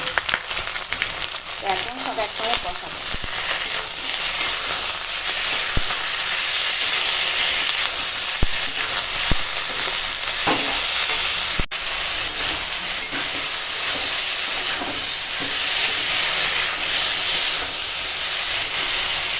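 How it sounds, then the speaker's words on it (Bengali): Vegetables and salt-and-turmeric-coated prawns fry in a pan with red chilli powder, turmeric and salt, giving a steady, close, loud sizzling hiss that runs unbroken throughout with no talking. "এখন মশলার সঙ্গে আনাজ কষানো হয়ে গেছে"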